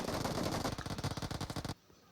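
Handgun fire in a library-map gun game sounds as a rapid burst of sharp, fairly faint shots in quick succession that stops abruptly near the end.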